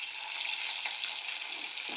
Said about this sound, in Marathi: आपलं तेल गरम झालेलं आहे. आता मी याच्यात हळूहळू बारीक बारीक बारीक बारीक पकोडे